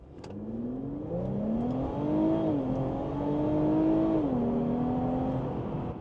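An Infiniti Q50 Red Sport AWD fitted with an AMS intake pulls away from a stop at near full throttle. The engine note climbs steadily and drops briefly at two gear shifts before rising again, heard from a moderate distance.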